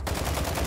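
A single loud, close sniper rifle shot in the video game Warzone 2, a heavy booming blast with a rumbling low-end tail, sounding alone.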